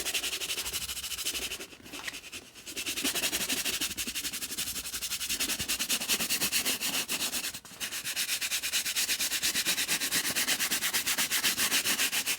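Dirty white leather Dr. Martens combat boots being scrubbed with cleaner, a steady, loud, close rasping rub that runs almost continuously, with a couple of brief pauses.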